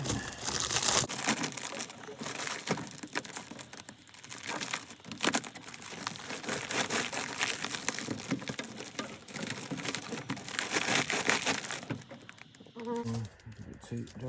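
Adhesive tape being pulled, crinkled and pressed onto gas furnace ductwork, a dense run of close crackling, ripping and rustling textures lasting over ten seconds with brief sharper tears, ending abruptly.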